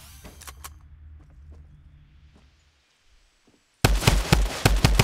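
A drum gun (Tommy gun) in the Fortnite video game firing a loud rapid burst near the end, after quieter game sounds, a few soft thuds and a brief silence.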